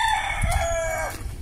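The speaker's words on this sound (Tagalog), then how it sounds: "Kuha na itong manok." A native chicken crows loudly and close by in one drawn-out, wavering call, with clucking and rustling around it in a backyard setting.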